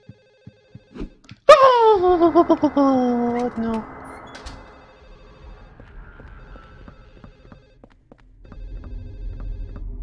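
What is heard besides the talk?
telephone ringing in a video game, Silent Hill 4: The Room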